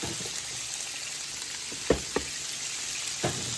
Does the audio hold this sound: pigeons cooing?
no